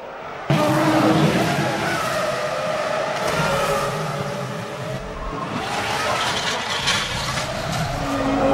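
A 2004 Formula 1 car crashes out of second place after contact and comes out of the tunnel backwards, with a loud sustained engine roar and scraping noise that begins abruptly and carries on throughout.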